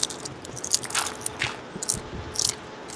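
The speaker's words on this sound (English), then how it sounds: "Sorry for the crunching, I'm eating Pringles." Pringles crisps are crunched and chewed close to the microphone, with a series of irregular crisp bites and crackles over a faint background.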